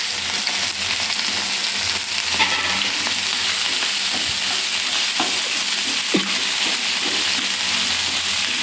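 Okra (lady finger) sizzling and frying in a pan with ginger and turmeric, with steady oil crackle throughout and occasional scraping stir strokes, close and fairly loud with no talk.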